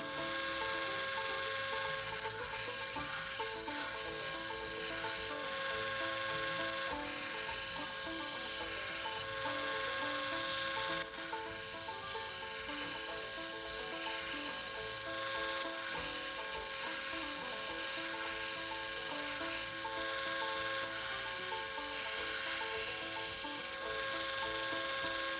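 Knife steel being ground on a belt grinder with a file-knife project underway, a steady continuous abrasive rasping and whirring that holds close and loud throughout with slight variations in pressure, no voices.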